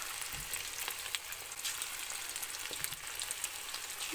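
Batter-coated chilli chicken pieces, dusted with corn flour and egg, crackle and sizzle steadily in hot oil, a dense continuous frying hiss with small pops throughout and no talking.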